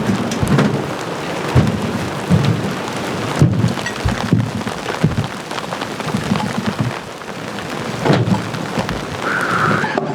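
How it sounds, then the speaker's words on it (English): Heavy rain pours steadily in Romania while low thunder rumbles and cracks several times, loud and close, with no voices. "We made it just in time before the rain is pouring."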